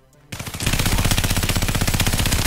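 Video game gunfire at a military village in The Thief: rapid automatic fire erupts after a brief quiet start, a loud continuous burst of evenly spaced shots rattling for about two seconds.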